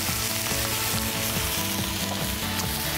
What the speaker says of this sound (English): And the rest I'll saute with the squash and get a little bit of roasted garlic in there.